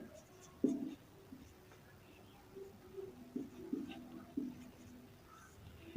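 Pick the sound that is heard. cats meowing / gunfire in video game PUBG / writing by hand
writing by hand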